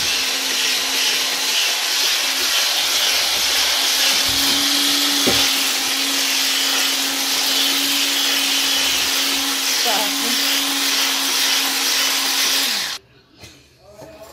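An electric mixer beats cake batter with added flour in a home kitchen, a loud, steady motor whir running continuously for about thirteen seconds before abruptly cutting off.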